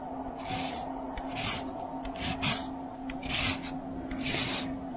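Food is pushed hard across a KitchenAid KE321OHOBA Classic etched fine grater in repeated rasping strokes, about six close, rhythmic scrapes with short pauses between them.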